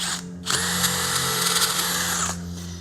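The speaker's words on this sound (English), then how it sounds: "Okay, so now I have nice clean drilled holes." A power drill bores through aluminum into a wooden deck post, giving one loud, steady whine of about two seconds that starts and stops abruptly, close by and alone.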